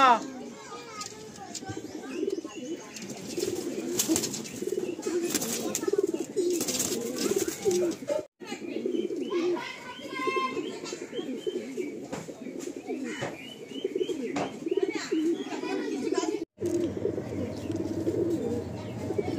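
Kalanka pigeons coo repeatedly at close range in a Kolkata loft, soft low burbling calls that run steadily throughout, with chirps and voices talking in the background.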